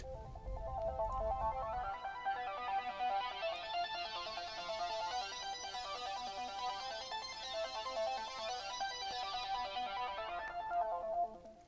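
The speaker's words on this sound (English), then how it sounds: "I ended up with kind of a cool sounding synthesizer." A bright, shimmering FL Studio synthesizer chord sustains for several seconds, filtered and thick, swirling with a chorus effect, alone and fairly soft throughout.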